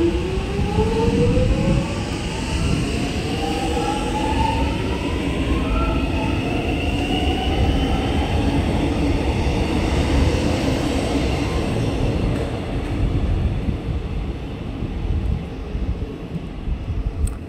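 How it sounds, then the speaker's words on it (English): A train rumbles steadily past nearby on the Frankston line in Melbourne, a loud continuous roar with rising metallic tones and wheel whine, and no voices over it. "just waiting for the last shuttle down service before it heads back up"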